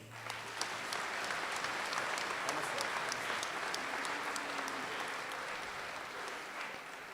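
Crowd at the Coal Bowl 2023 closing ceremonies in Cape Breton breaks into steady applause, a broad, fairly distant wash of clapping sustained for several seconds.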